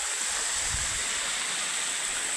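A village waterfall roars as a steady, even rush of falling water, constant and fairly close, with no voices over it.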